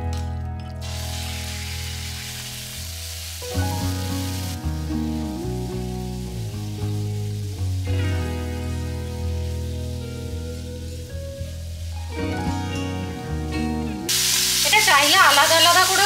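Chicken and prawns, marinated in salt and vinegar, hiss and crackle as they fry in vegetable oil in a home kitchen wok. The steady sizzle runs under prominent background music and swells loudest near the end.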